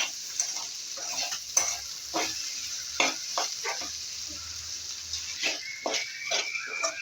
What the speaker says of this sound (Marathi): अजून दोन मिनटं आपल्याला भेंडी भाजा लागेल